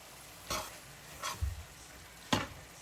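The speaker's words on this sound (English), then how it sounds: "Let's go ahead and stir that all around" A spoon stirring ketchup into a thick turkey casserole mixture in a pot, giving three or four brief soft scraping, squelching strokes separated by quiet pauses, close and fairly faint.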